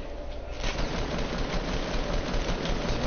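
Dense, continuous rattle of rapid gunfire in a video game with no clear gaps, loud and harsh throughout, no voices.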